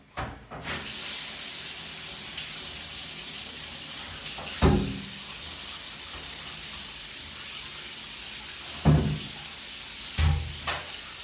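A bathtub fills from a running tap, a steady broadband gush of water continuing throughout, with a few brief knocks and clunks near the tub.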